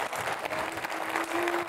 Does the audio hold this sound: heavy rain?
no